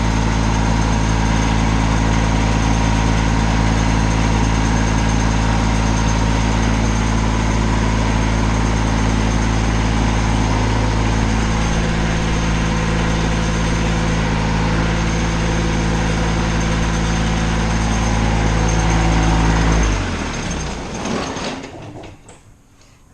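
A Kubota backhoe engine idles steadily and loudly close by with a mechanical hum and rattle, then cuts off near the end and winds down into quiet.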